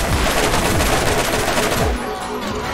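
Rapid turret gunfire in the video game Borderlands, a dense, loud stream of overlapping shots that thins out near the end.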